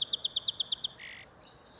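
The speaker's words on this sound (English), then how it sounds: "Here's the titular song of the song sparrow." Song sparrow song: a rapid run of bright repeated trilled notes for about a second, then a softer buzzy trailing phrase, close and clear over faint background hiss.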